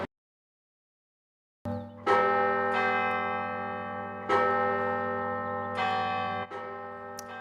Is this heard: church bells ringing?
yes